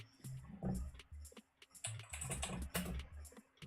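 Someone types on a computer keyboard during a co-working stream, with irregular bursts of close clicky keystrokes and brief pauses between flurries.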